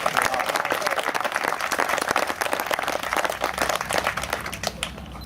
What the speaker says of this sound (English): So let's start off with applause for that.